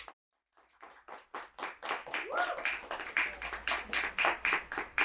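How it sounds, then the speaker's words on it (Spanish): An audience at a literary tribute event claps, starting from silence with a few sparse claps that quickly build into loud, rhythmic, near-unison applause. "les doy un aplauso fuerte para Sandra y Lilia."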